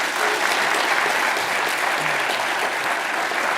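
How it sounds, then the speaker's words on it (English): Dense, steady applause from a large audience at the Co-op Congress, filling the room without a break for the whole stretch, with no voices standing out. "A huge round of applause, please."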